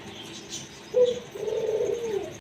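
A domestic pigeon coos close by, one short throaty note followed by a longer rolling coo, clear against a quiet background with no talk.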